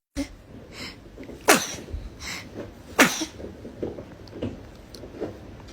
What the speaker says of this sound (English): Baby is a dramatic sneezer